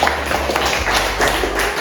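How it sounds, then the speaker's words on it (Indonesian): Applause for all the groups breaks out across a classroom, a dense spread of many hands clapping together at fairly loud volume, sustained throughout without a break. "Sekali lagi, tepuk tangan untuk semua kelompok"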